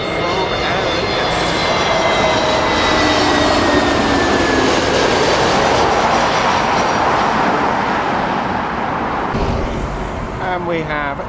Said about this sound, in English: And another A321neo, but this one is from Aer Lingus.